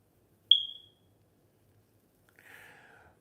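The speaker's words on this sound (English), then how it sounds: "we took out the battery on this detector and it's still beeping" A smoke detector with its battery removed gives a single short, high electronic chirp that decays quickly in a quiet room, followed a couple of seconds later by a faint, softer rustle.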